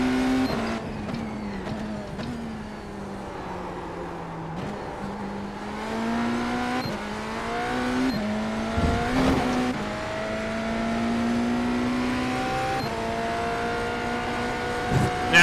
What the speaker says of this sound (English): Let me know if the engine is entirely too loud or not loud enough.